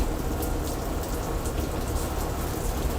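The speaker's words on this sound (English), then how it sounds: "What's going on right now is we're having a torrential downpour." A torrential outdoor downpour hammers down as dense, steady rain hiss with constant patter on surfaces, loud and unbroken throughout. There is no talking.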